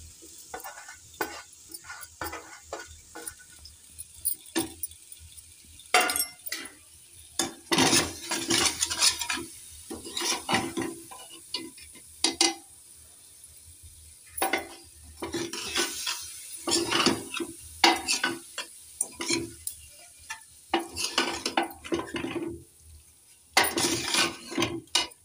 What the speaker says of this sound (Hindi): अब हम मसाले के साथ इसको अच्छे से मिक्स कर लेंगे।